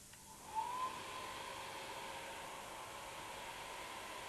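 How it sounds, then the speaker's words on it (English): A handheld hairdryer blows air at a small cardboard hovercraft built from a coleslaw packet, giving a steady, close broadband whoosh that keeps going the whole time, with a brief louder rise near the start. "No, so we've brought along a hairdryer."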